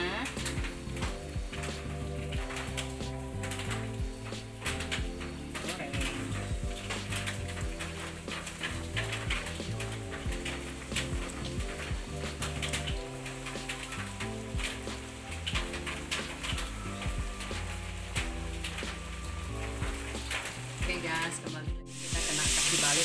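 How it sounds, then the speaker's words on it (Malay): Spiced crispy chicken with cheese fries in a pan of hot oil, a loud, dense, continuous sizzle heard up close for the whole stretch, with faint clatter mixed in. "Nah, kita goreng sampai habis ya guys ya."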